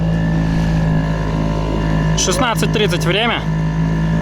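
Small outboard motor driving a boat up a river toward the mountains, a steady loud droning hum throughout, with someone speaking over it partway through.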